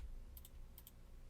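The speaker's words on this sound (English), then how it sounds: "Now I wanna press 1 on the keyboard." Keys on a computer keyboard are tapped in two quick pairs of soft clicks, faint and close, over a low steady hum with no talking.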